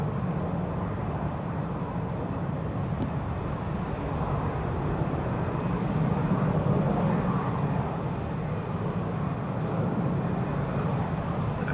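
A jet airliner thunders down runway 28 at Zurich Airport on its takeoff roll in gusty crosswinds, a loud, steady broadband engine roar that holds for the whole stretch with no talk over it.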